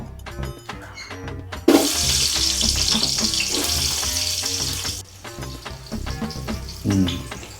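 Onions sizzle loudly as they fry in a pan for chicken pulao, a steady hiss that swells abruptly partway through and then drops back to a lower crackle. Clinks sound throughout, and nobody speaks.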